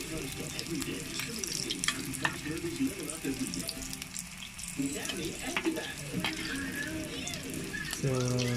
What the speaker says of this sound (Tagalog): ipiprito na natin guys yung ating lumpia na mga binalot kanina